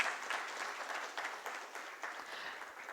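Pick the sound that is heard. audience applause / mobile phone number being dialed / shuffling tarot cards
audience applause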